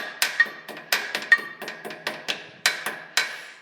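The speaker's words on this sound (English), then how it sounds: "And then take the hammer," Small hammer tapping mild-steel locking plate tabs flat while removing the rear axle and housing on a John Deere 710, a run of about a dozen sharp metallic taps at an irregular rhythm, close and clear, with no talking.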